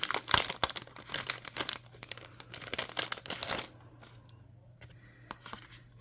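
Someone opens a small craft kit package of paper journaling cards, with close, bursty crinkling and tearing of plastic wrap for about three seconds before it settles into quieter rustles.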